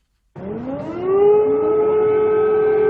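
An air raid siren in Kyiv winds up from silence, its wailing tone rising in pitch and then holding steady and loud, alone without voices.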